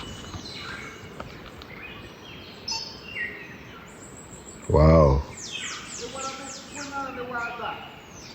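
Thin high chirps from a baby bird in a nest in a rainforest, faint and scattered under ambient jungle sound, with a loud exclaiming voice midway and more rising chirp calls afterward.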